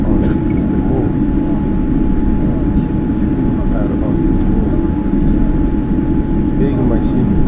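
A Boeing 787 Dreamliner taxis on a short domestic flight, heard from inside the cabin as a loud, steady low engine rumble with a constant tone over it, while people talk quietly underneath.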